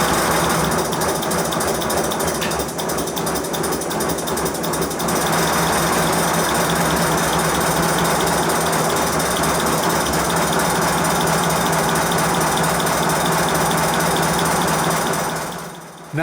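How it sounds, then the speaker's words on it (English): A 5 inch gauge model pannier tank locomotive runs on compressed air, giving a dense, steady mechanical chatter of rapid exhaust beats and clicking motion. The sound is loud and constant, then cuts off abruptly at the end. "The engine is running much more smoothly"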